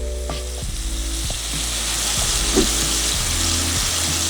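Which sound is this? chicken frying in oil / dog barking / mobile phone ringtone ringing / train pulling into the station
chicken frying in oil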